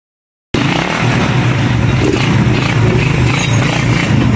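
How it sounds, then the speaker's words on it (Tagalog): A repaired motorcycle engine, previously cutting out and backfiring, starts suddenly after a brief silence and runs loud and close, holding a steady rev without sputtering. "Tapos pag ni-rev natin, ayos na, hindi na namumutol."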